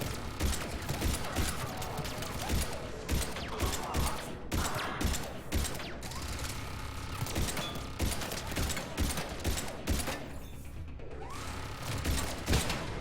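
Rapid bursts of turret gunfire in the Mass Effect 3 From Ashes battle, dense and continuous with thumps and mechanical clatter layered throughout, fairly loud for the whole stretch.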